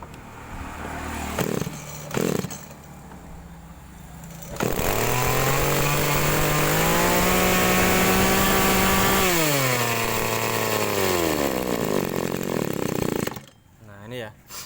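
A small two-stroke engine on an agricultural sprayer, one that struggles to take throttle, revs up from a low idle to a high, steady buzzing whine that holds for several seconds before dropping back, close and loud.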